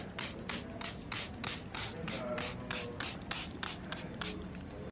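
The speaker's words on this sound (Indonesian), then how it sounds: "Oke, kita semprot dulu." Close, steady hiss of a sprayer spraying Roundup weed killer in rapid repeated pulses over a constant low background rumble, with no talking.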